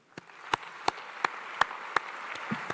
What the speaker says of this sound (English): Please join me in a round of applause for the Navy Band and Color Guard